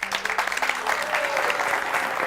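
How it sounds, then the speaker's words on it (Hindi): Audience at a business opportunity presentation giving loud applause for a couple; continuous, dense clapping from many hands throughout, with no speech over it. "भाई कविता जी और उनके पतिदेव के लिए जोरदार तालियां।"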